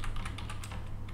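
Computer keyboard keys clatter in a quick, steady run of close taps over low background hum while HTML text is typed, with no voices.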